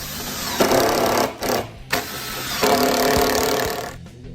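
A screw gun with a magazine attachment drives screws in a few loud whirring bursts separated by short pauses, close up and with no talking.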